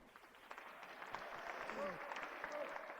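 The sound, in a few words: audience applause at a cabaret show in Reims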